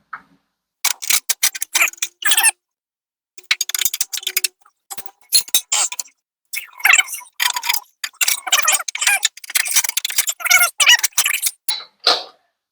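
A bolt is started by hand into a Jeep Gladiator inner fender, giving close, crisp clicks and ratcheting ticks in irregular bursts separated by silent gaps.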